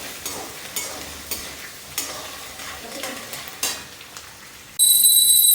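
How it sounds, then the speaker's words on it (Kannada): Green chillies frying in a pan, a soft, steady sizzle with light stirring scrapes, followed near the end by a sudden loud burst of bright, high-pitched noise. "ಮತ್ತು ಹಸಿಮೆಣಸಿನ್ಕಾಯಿ ಹಾಕ್ಕೊಳೋದು. ಹಾಕ್ಕೊಂಡು ಸ್ವಲ್ಪ ಫ್ರೈ ಮಾಡ್ಕೋಬೇಕು."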